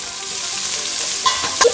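Garlic and onions hit hot oil in a pan with country ham for braised collards, giving a bright steady sizzle with a few sharp crackles and spoon scrapes near the end, close and with no talking.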